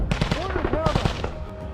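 Rapid bursts of close automatic gunfire ring out during a Ukrainian trench assault on the Avdiivka front. The shots run in quick rhythmic volleys while a voice shouts over them.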